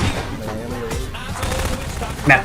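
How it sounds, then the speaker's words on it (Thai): Distant gunfire in a Garry's Mod Prop Hunt match, scattered shots crackling with a louder burst near the end, mixed with a voice speaking over the game sounds. "เขายิงเขายิงอยู่แถวไหนกันเนี่ย"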